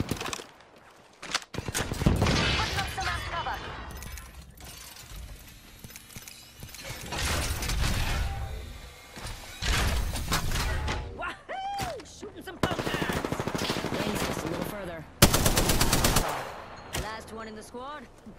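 Gunfire rattles through an Apex Legends match in repeated loud bursts of rapid machine-gun and rifle shots, with mechanical clatter between volleys and a voice speaking over the fighting.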